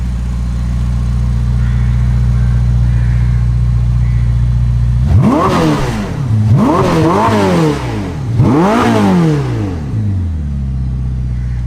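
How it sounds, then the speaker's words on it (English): A Ferrari SF90 hybrid's 4-litre twin-turbo V8 idles with a steady rumble, then three sharp, loud revs climb and fall in quick succession before settling back to idle. "It's a 4-litre twin-turbo V8."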